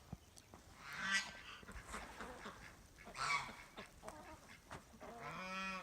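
Several ducks quack and honk intermittently, fairly faint, with short bursts of calls separated by quieter outdoor background noise.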